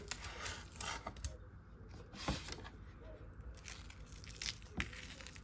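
A knife cutting food in half while breakfast with southern potatoes and scrambled eggs is prepared, giving a few crisp slicing crunches and taps against a board over steady kitchen background noise.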